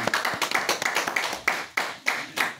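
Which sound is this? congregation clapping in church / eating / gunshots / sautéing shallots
congregation clapping in church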